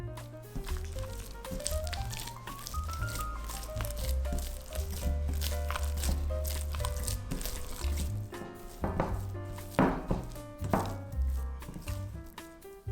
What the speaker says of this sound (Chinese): 把面团揣均匀